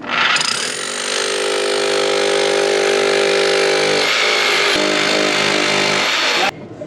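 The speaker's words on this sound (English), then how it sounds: "I think you got your jackhammer in too far." A loud, continuous mechanical roar of a jackhammer breaking rock-hard ground at a placer gold dig runs steadily for several seconds, then cuts off abruptly near the end.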